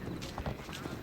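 A horse's hooves clop in quick rhythm during a ride in the video game Assassin's Creed Odyssey, a brief run of muffled, mid-distance beats over faint background ambience.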